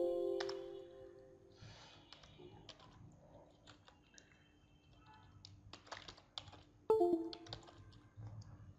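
Computer keyboard typing during work on a thumbnail design, quiet scattered keystrokes in short clusters with a few louder taps toward the end, close and alone without talk.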